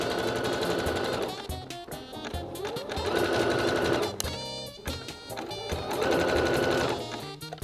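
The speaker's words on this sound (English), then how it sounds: "I'm going to keep it on a zigzag stitch, and I'm just going to take it really slow all the way across" A sewing machine running a slow zigzag stitch, loud motor whir in long steady bursts broken by brief pauses, with music playing along underneath.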